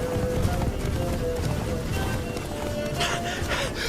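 Roach, the horse in The Witcher 3 video game, gallops in a quick, steady clip-clop rhythm of hooves, close and continuous, with game ambience around it and no speech.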